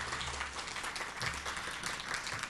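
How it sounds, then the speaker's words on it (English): Audience applause at a community event following a musical performance, steady continuous clapping throughout, fairly close and moderately loud with no voices over it. "Let's give them another round of applause"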